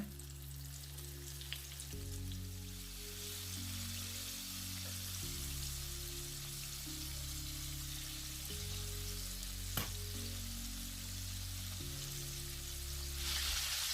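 Continuous bubbling sizzle of large chicken drumsticks deep frying in hot oil about ten minutes in, steady and fairly quiet, with a low hum underneath and no talking.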